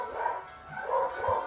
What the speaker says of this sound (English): Sorry guys if you hear the dogs.